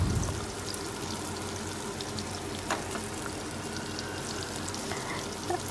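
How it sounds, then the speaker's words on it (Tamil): Raw plantain pieces cook in a hot pan with a steady, dense sizzle and crackle that fills the whole stretch, close and even, with no voices over it. "வாழைக்காவை இந்த மாதிரி போட்டு நல்லா வேக வைக்க வேண்டியது"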